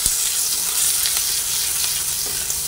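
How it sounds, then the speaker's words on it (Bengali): Ginger frying in mustard oil in a wok, a loud continuous sizzle with faint stirring scrapes, steady throughout. "আদা ভাজা হচ্ছে,"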